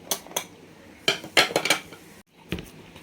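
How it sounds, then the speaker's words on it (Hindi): Spoon clinks and scrapes against a bowl in short bursts while chicken seekh kabab mixture with cardamom powder is stirred together, close and crisp with brief pauses between strokes. "इन सबको अभी अच्छे से मिक्स करेंगे।"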